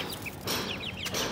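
An Aseel hen clucks and squawks in short, bright bursts, fairly close, with a few quick calls in a row.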